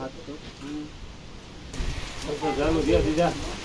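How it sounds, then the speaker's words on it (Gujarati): Steady rain hiss throughout, with voices talking over it in the second half. "હા ઓ વરસાદ ચાલુ થઈ ગયો પાછો"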